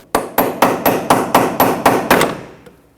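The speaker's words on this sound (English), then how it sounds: "You might need to hammer it a little bit." A hammer strikes the front shock absorber mount on a 2006-2010 Hyundai Sonata, nine sharp metallic blows in an even rhythm at close range, the last ringing out into quiet.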